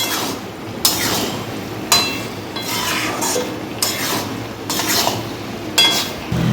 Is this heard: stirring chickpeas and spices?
yes